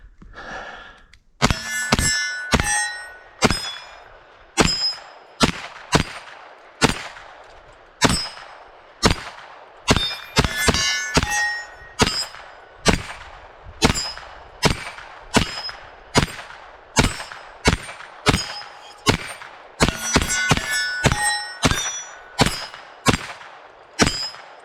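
At an outdoor shooting range, a Marlin Camp Carbine Model 9 fires shot after shot, with sharp, ringing metallic cracks coming in an irregular series and quick doubles every second or so across the whole stretch, and almost no talk.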